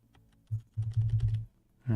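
Computer keyboard typing in short bursts of clustered keystrokes, close and fairly loud, with brief pauses between runs and no talking.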